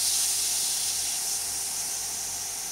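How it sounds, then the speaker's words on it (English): Butane gas hisses steadily out of a lighter as it is bled with a Phillips screwdriver from a Swiss Army knife. The hiss is close, smooth and unbroken, fading slightly toward the end. "this lets all the air and gas escape, so it's completely empty to do the refill with"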